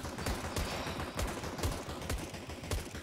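USP pistol fire in the video game CS:GO during a competitive match on the Nuke map, with a quick run of sharp, evenly spaced shots cracking at a moderate distance.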